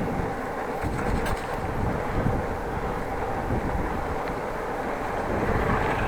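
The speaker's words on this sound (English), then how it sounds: "A little bit of wind." Steady wind rushing and buffeting across a microphone on an outdoor bike ride through open countryside near Appingedam and Groningen, a continuous broad roar with low rumbling gusts throughout.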